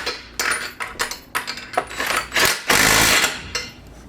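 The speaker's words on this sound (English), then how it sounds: "Once they're started by hand, go with your impact in the 19 mil." Cordless impact wrench with a 19 mm socket running bolts down snug on a pivot rack assembly, giving a series of short rattling hammer bursts followed by one longer sustained burst, close and loud.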